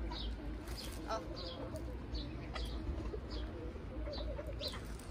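Pigeons coo softly in short repeated calls over a low background hum, fairly distant and quiet.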